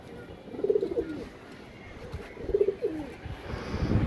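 Several pigeons coo in soft, low bursts, two clear rounds of cooing standing out against a quiet background with faint rustling.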